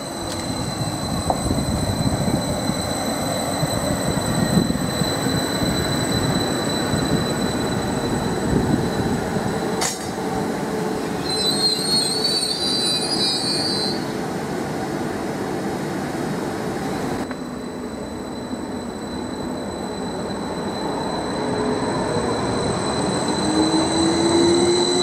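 A Class 755 train pulls into Needham Market station, its loud, steady rumble building as it nears, with wheel squeals and a brief high-pitched whine, before the noise settles as it stops.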